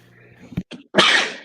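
One sharp human sneeze up close, a quick indrawn breath and catch leading into a loud, bright burst that trails off.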